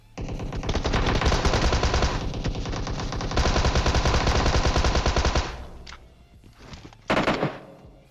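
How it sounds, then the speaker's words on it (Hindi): PUBG gunfire from an AKM rattles in long, rapid automatic bursts that stop abruptly, then a short final burst after a brief lull. "एकेएम वाले बंदे ने यार न जाने कहां कहां पे फ्री फायर दिया"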